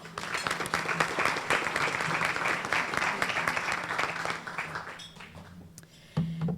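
Audience applause welcoming a speaker at a panel event, steady dense clapping that tapers off toward the end before a voice begins speaking.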